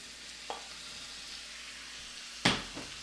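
Browned venison dropped back into a stir-fry pan sets off a soft sizzle beneath a couple of sharp clinks and scrapes, the louder one near the end, all fairly close and quiet.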